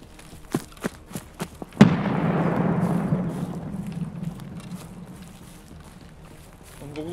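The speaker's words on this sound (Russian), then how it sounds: "Дал гранату за забор." Grenade explosion in Escape from Tarkov: a few light footstep-like taps, then a single sharp blast with a long rumbling decay that fades over several seconds.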